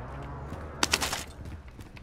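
Silenced light machine gun in Warzone gameplay firing a short burst of suppressed shots, quick muffled pops in the middle of an otherwise quiet stretch.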